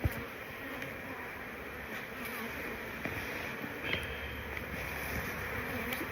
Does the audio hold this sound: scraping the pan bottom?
no